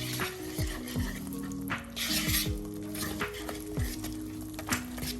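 A spoon stirs dairy-free waffle batter with oil in a bowl, giving a steady run of wet swishing and scraping with light clinks against the dish, close up and without talk.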